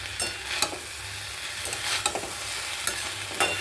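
Carrot, potato and kakrol frying in a pan are stirred with a spatula, giving a soft continuous sizzle broken by several scraping, clattering strokes against the pan at an uneven pace.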